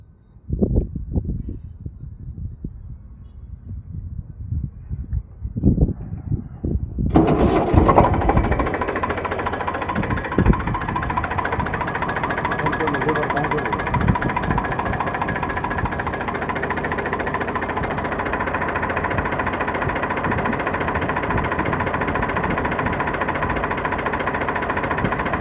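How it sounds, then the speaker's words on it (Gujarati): An Eicher 485 tractor with a 45 HP engine, 2015 model, sits near quiet at first with a few knocks, then its engine starts and settles into a loud, steady diesel idle with rhythmic vibration. "એન્જિન સારું છે, વરાળ બરાળ નથી આવતી"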